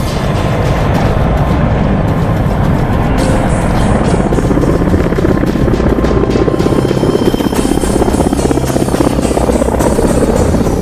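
A military helicopter flies during an army combat-tactics demonstration in Ladakh, its loud rotor thudding steadily and continuously, close and dominant with no voices over it.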